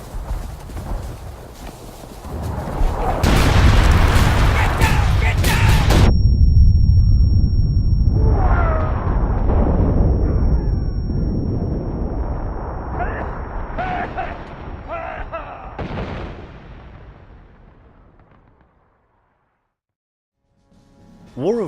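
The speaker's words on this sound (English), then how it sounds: "Incoming artillery!" Artillery fire in the Civil War shooter game War of Rights: a deep, rumbling barrage of booms rolling in over several seconds, with heavy impacts and lingering rumble that fades away, shouts mixed in.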